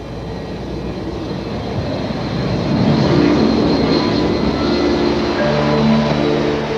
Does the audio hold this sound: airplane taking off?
yes